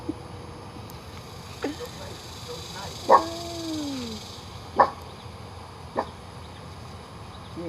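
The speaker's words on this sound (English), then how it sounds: "now he's playing with the little dog" Small dog giving a few scattered short yips and barks with a drawn-out whimpering whine, fairly close over a steady noisy background with no clear talk.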